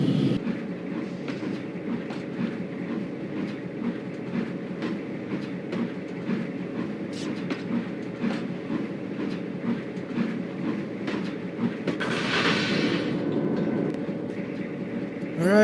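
A train running on rails in a railroad video game set in the Cajon Pass, heard as a steady rolling rumble with rhythmic clatter throughout and a brief hiss or squeal near the end.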